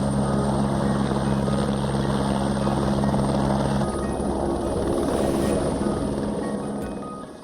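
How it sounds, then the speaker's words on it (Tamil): A modern Chinese helicopter built for snowy regions flies on a test, its rotor and engine giving a loud, steady buzzing drone that softens slightly and fades toward the end. "பனிப்படர்ந்த இடங்களில் செல்லும் வகையில் நவீன ஹெலிகாப்டர் ஒன்றை உருவாக்கியுள்ள சீனா அதை வெற்றிகரமாக சோதித்து பார்த்துள்ளது"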